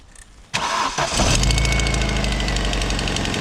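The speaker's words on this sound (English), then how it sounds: "it fires up on the button every time" A Vauxhall car engine cranks briefly and catches, rising to a loud steady idle with a slight exhaust manifold blow, close by with no talking.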